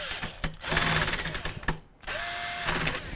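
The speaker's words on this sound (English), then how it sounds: "then we'll put in our Phillips screws" A power drill drives Phillips screws into a GE refrigerator heater: two close whirring bursts rise in pitch, with a brief stop and a rattle between them, loud and near without speech.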